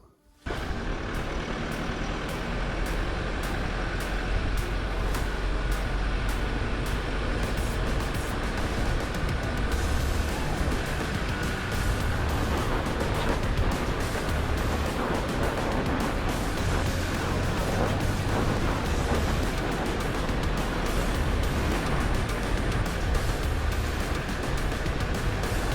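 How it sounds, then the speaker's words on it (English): A 4x4 vehicle driving through deep sand in Namibia: a steady, loud engine roar with continuous rushing noise, close and unbroken throughout. "Driving through the sand was an exhilarating experience"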